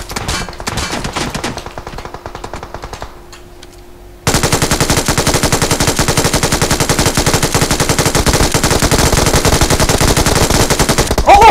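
Automatic gunfire in PUBG Mobile, scattered shots at first, then a loud, rapid, unbroken machine-gun burst hammering on for several seconds up close.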